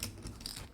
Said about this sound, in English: that's just me shuffling poker chips